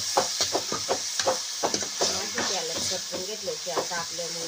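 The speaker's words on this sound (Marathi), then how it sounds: "आजीने व्यवस्थित भाजी परतून घ्यायचं काम चाललेलं आहे बघा." Onion vegetable being sautéed and stirred in a pan over a strong wood-fired chulha, a steady sizzling hiss running beneath an adult speaking throughout.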